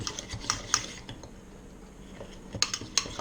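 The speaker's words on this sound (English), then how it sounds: "I am going to take a fork and whisk it" A fork whisking egg yolks in a bowl for donut dough, quick clinking taps of metal against the dish in short clusters at the start and end, faint and close, no talking.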